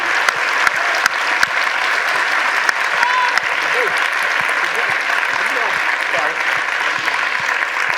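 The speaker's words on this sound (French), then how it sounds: "On peut applaudir très fort, Maître Brouza" Conference audience at a sovereignty round-table event in France breaks into loud, sustained applause, dense clapping filling the room steadily throughout with a few sharper claps popping out.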